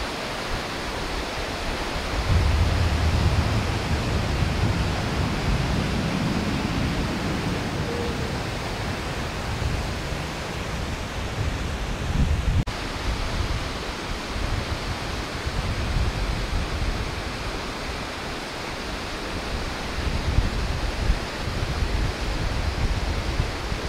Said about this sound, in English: The scale of this waterfall.